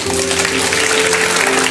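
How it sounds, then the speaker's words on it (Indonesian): A church congregation applauds during a sermon, a dense, steady wash of clapping from many hands that sustains at full loudness over a faint tonal hum. "Kasih tepuk tangan untuk Tuhan."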